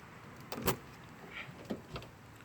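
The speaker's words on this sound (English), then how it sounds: "let's unlock the car" A Hyundai Veloster three-door hatchback being unlocked, a few short soft mechanical clicks and clunks from the door locks at close range, fairly quiet, no talking.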